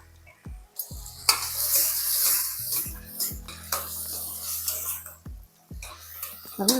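Brinjal and tomato being sautéed in a pan, soft sizzling and hiss with intermittent scraping stirs and sharp utensil knocks against the pan, close and uneven in rhythm.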